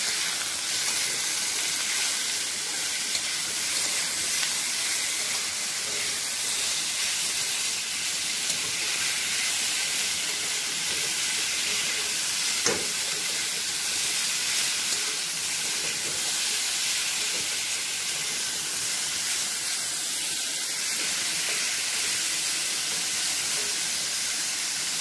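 Turmeric and spices sauté in a pan with a steady, even sizzle and hiss that holds for the whole stretch, moderately loud and with no talking.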